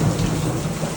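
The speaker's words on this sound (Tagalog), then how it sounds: "Maulan na maulan." Heavy rain pours down steadily with deep rumbling thunder rolling underneath, loud and continuous with no voices.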